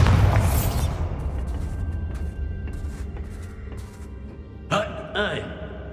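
A Bombarda blasting spell bursts in Hogwarts Legacy, opening with a heavy, loud boom that decays into a rumbling tail, followed by two sharper, smaller bursts near the end.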